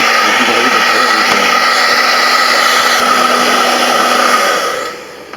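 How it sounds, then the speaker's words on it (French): Hair dryer blowing steadily into a freezer to defrost it, a loud constant whirring roar with a high whine that holds evenly, then winds down and cuts off at the end. "si vous n'avez pas de petit ventilateur, vous prenez un séchoir"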